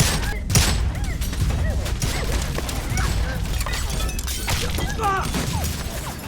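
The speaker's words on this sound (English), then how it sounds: "John's crew outside started shooting at the cops." Gunfire as a crew shoots at police, dense overlapping shots and crashes mixed with voices and dramatic sound, loud and continuous throughout.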